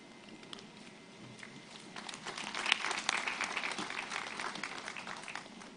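Audience applause at a launch event, faint distant clapping that swells in the middle and then holds as a soft patter with crowd murmur.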